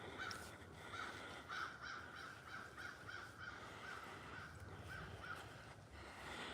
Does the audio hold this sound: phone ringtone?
no